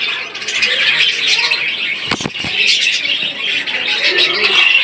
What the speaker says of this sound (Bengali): এক জোড়া অস্ট্রেলিয়ান ঘুঘু পাখি